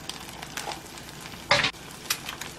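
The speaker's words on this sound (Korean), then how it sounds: "저렇게 노른자를 깨지 않고 익혀줍니다." Egg frying in a pan beside bacon kimchi fried rice, a steady close sizzle with a louder burst of crackling partway through.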